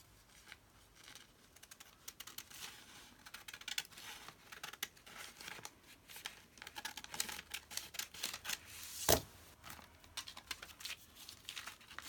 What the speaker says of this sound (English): I'm just going to trim off this bit.